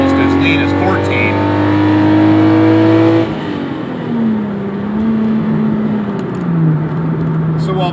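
A car with Bosch L-Jetronic fuel injection accelerates slowly uphill, its engine drone steady and rising gently in pitch, then shifting to a lower hum as it keeps pulling, loud and continuous inside the cabin.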